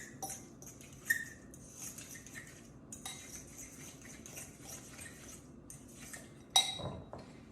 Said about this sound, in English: I'm just going to stir in my cumin